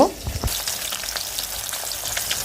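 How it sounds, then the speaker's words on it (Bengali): Fish frying in a pan for a home meal of rice and dal, a steady close hiss of sizzling oil with a few short clatters near the start. "আমি এখানে কিন্তু আবার মাছটাও ভাজতে দিচ্ছি"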